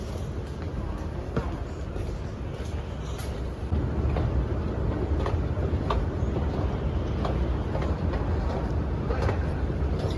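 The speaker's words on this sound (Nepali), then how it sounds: "स्टेसनको अर्को ट्रेन कुदिरहेको छ।" A Saudi underground metro train running, heard as a steady, loud low rumble with faint rail clatter throughout, growing slightly louder partway through, with no talk over it.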